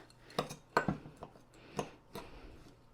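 A utensil breaking up and mixing peanut butter energy bites in a bowl, a few sparse clinks and scrapes at irregular intervals, close and fairly quiet.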